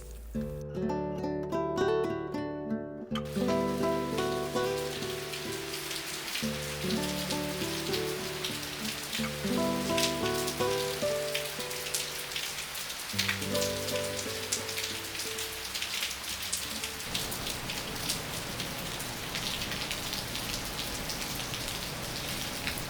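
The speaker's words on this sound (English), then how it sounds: "It's a rainy morning here." Steady rain falling on a rainy morning, a constant hiss of drops pattering on surfaces, under a soft piano melody playing throughout with a brief pause near the start.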